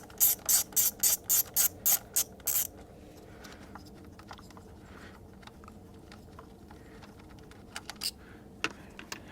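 A ratchet loosens the retaining bolts on a Hyundai Tucson 2.0 GDI engine, giving a quick, loud run of about ten clicking bursts close to the mic, then a few faint clicks.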